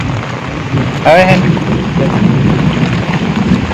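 Steady rain falls with a loud thunderclap near the start, and water runs off a tin roof and shed in a village setting; someone speaks briefly over the continuous downpour.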